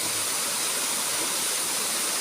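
A mountain waterfall near Ban Huai Huat in Tao Ngoi district pours as a steady, dense rushing roar, loud and unbroken, with no voices.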